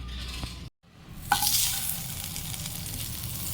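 Vegetables frying in butter with ginger and garlic give a steady close sizzle with stirring, broken by a brief silent gap and then a louder burst of hiss as frying resumes.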